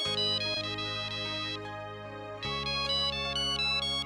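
A phone ringtone plays a bright, repeating melodic tune, loud and close, with a short dip partway through before the pattern resumes.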